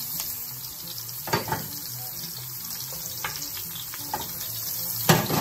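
Oyster mushrooms sauté with a little kosher salt in a pan, giving an even, moderate sizzle. Scattered scraping clicks from stirring break through, with a sharper knock near the end.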